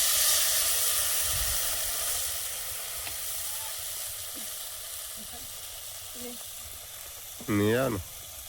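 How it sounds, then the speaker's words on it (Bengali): Dried red chilli and black cumin sizzle in hot oil with a steady, bright hiss, ending in a short, squealing, tonal burst of spattering. "শুকনো লঙ্কা কালো জিরে চেরা কাঁচা লঙ্কা জল দিয়ে দেবো"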